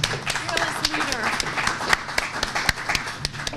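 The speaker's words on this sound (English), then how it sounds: "A little round of applause for our fearless leader." Audience at the State of the Cape 2013 event, a Chamber gathering, breaking into a round of applause, a dense steady patter of many hands under a speaker's voice.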